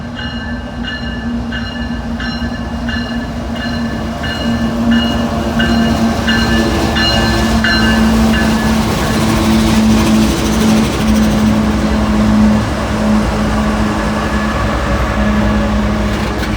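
A street-running train rumbles past through town in La Grange, Kentucky, steadily with a low droning hum and faint high metallic tones, the noise swelling slightly midway and staying loud throughout.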